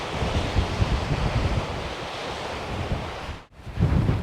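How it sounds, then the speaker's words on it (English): Strong wind on the Tay coast batters the microphone with steady, loud, broadband roaring and buffeting. The gusts swell and ease throughout, with a brief lull near the end before the wind surges back. "It's really windy."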